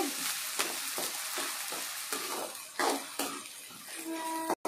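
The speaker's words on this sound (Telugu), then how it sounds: "అల్లం తెల్లగడ్డ పేస్ట్ వేస్తున్నానండి. నూనె కూడా వేసానండి." Ginger garlic paste fries in hot oil for a chicken fry, crackling and sizzling steadily up close while a utensil stirs it in repeated scraping strokes, with a brief clink near the end.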